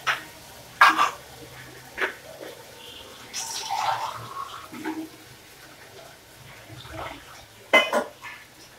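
Spices frying and being stirred in oil in a pan during Bengali home cooking, heard as scattered metallic clinks and scrapes of a utensil against the pan over a faint, low sizzle. There is no talking.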